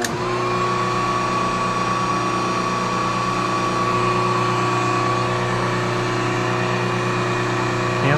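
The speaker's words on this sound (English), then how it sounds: "I'm going to have the heat gun on low, and we'll see if it can start this small motor" Heat gun running on its low setting, powered through an inverter from a 12V 200Ah LiFePO4 battery, gives a steady, loud mechanical whir with a constant tonal hum that holds unchanged throughout, with no voices.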